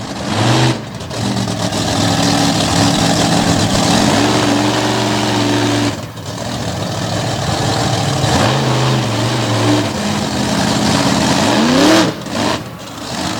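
A race vehicle's engine roars and revs hard through a wheel stand run at an Abbottstown, Pennsylvania truck-and-tractor pull event, loud and sustained with brief dips and rising pitch sweeps.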